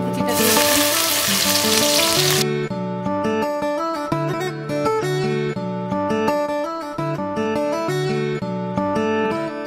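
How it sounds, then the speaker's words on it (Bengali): Ginger and garlic sizzle hard in hot oil in a wok, a loud, close crackling hiss that fills the first couple of seconds before music takes over. "কড়াতে আবার তেল দিয়ে দিয়েছি। প্রথমে আমি আদা আর রসুন কুচিটা দিয়েছি।"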